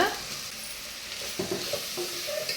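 Masala and chilli powder sautéing in a pan for egg curry, a brief close hiss of frying with a few scraping stirs, no talk.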